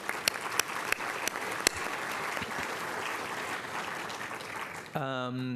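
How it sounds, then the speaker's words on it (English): Applause from a faculty senate meeting audience, a steady wash of many hands clapping with a few sharper claps standing out, ending with a voice starting to speak. "So maybe we can give Matt a round of applause"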